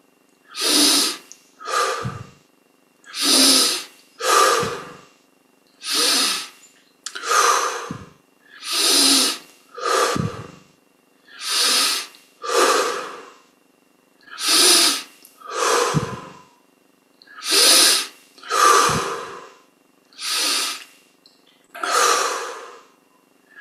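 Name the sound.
deep breathing during meditation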